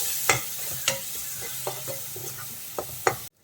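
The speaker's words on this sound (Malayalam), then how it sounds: "നന്നായിട്ടൊന്ന് മിക്സ് ചെയ്ത് കൊടുക്കാം." Turmeric and asafoetida being stirred into a tomato rice masala in a pan: a spoon scrapes intermittently through the mixture against a soft steady sizzle, with a few sharper strokes and no voices.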